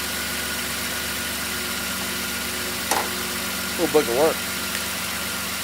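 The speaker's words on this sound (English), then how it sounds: "I can hear my alternator just like really being pulled down and charging good" Car engine idling steadily with the alternator under charging load, a low continuous hum and faint whine while a person speaks briefly over it.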